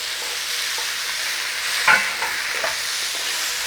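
Pepper steak strips and onions stir-fried in a hot pan, a steady broad sizzle throughout with a brief louder scrape of stirring near the middle, close and alone without talk.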